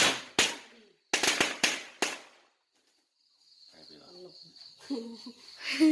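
Firecrackers set off outdoors on Sangkhan day during a Lao-style Songkran celebration, several sharp loud bangs in quick bursts, followed by quieter crackling and people talking in the background.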